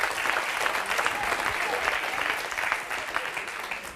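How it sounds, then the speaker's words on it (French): An audience at a magic show applauds a volunteer coming up from the crowd, a steady, even round of clapping that holds for several seconds without voices. "Venez, on l'applaudit, s'il vous plaît."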